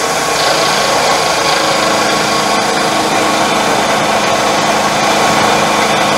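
A milling machine cutting stepped jaws for a mill vise, a loud, continuous dense grinding whir with a rough, steady texture, close by and unbroken throughout, no talking.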